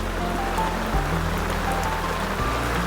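Rain falls steadily during a motorbike road trip toward Kalsubai, a continuous close patter with a low rumble underneath, no talking.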